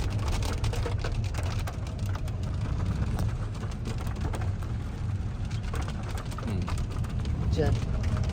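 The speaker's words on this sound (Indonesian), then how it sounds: "Hujan." Steady rain falls on a drive through the Harau valley near Payakumbuh in West Sumatra in an electric car, a continuous dense wash of drops under low road rumble, with some indistinct voices in the background.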